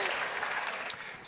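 Crowd at a NYCC convention panel for Hannibal applauding, a dense, steady wash of clapping heard close and fairly loud throughout.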